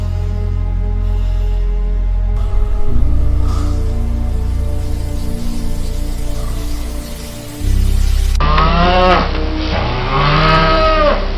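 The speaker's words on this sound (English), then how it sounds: "Seven fat cows" Cattle low in a few drawn-out moos near the end, loud and close, following a stretch of droning ambient tone.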